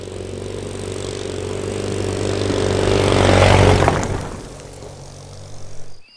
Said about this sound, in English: So for example, Jolene, my 2CV, 425cc engine, is quite loud for the size of the engine.